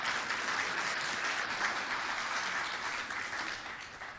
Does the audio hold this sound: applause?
yes